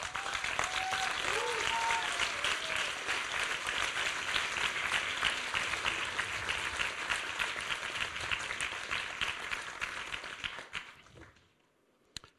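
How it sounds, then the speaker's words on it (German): An audience at the Goldenes Brett 2016 ceremony in Vienna gives sustained, loud applause that holds steady for about ten seconds, then fades out to near silence. "Ein Applaus bitte."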